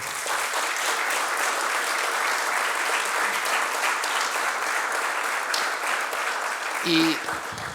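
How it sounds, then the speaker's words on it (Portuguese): A hall audience at a commemorative session of Barreiro's associative movement gives sustained, dense applause from start to finish, even and full, with a brief voice near the end. "desde já pedia também uma salva de palmas para a direção da SFUA"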